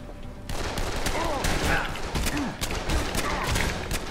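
Rapid bursts of gunfire in the Dead Island video game crackle loudly and continuously, with zombie-like growls and a voice mixed in.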